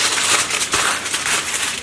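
A sheet of aluminum foil is crumpled and crinkled by hand in a kitchen, a continuous dense rustle with a few sharper crackles, fairly close and with no talking.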